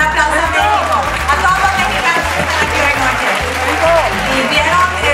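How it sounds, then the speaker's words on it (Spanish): An awards show audience in a large hall bursts into loud, sustained applause, with clapping and scattered cheers running continuously under a thumping musical beat. "Un aplauso a México."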